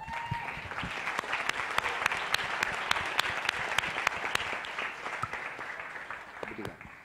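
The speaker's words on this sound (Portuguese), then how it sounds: "E uma salva de palmas para essa família matriz" Warm, steady applause from an audience at a semester-opening talk, with distinct individual claps popping through the dense wash; faint voices murmur underneath as it tapers near the end.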